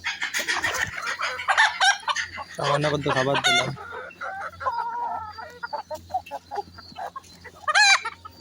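Chickens cluck and crow close by while being hand-fed, with a person talking over and between the calls.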